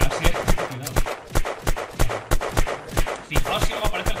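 Rapid gunshots fire at zombies in the survival game Unturned, a regular series of sharp, loud cracks at a steady rhythm that continues through the whole stretch without a pause.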